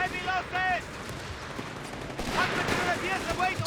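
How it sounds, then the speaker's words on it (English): Howitzer artillery and other guns fire on a Company of Heroes 3 battlefield, with sharp booms and rattling bursts spread across the clip and a voice speaking over the combat. "Howitzer is ready to fire again though, and it's okay, it's rattling off its shots now"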